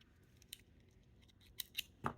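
Scissors cutting the end of Silversilk flatmesh for a beaded collar necklace, with a few quiet, close snips and a sharper final cut, and no one speaking.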